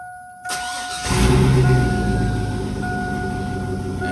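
A car engine fitted with a second high-output alternator cranks briefly, then catches and settles into a steady, loud idle close by, with no talk over it.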